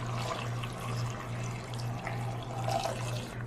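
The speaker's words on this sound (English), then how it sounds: "the last ingredient that we need right now is 3 cups of water" Three cups of water poured into an Instant Pot for a vegan meal, a steady splashing stream running for a few seconds, close and clear with no talk.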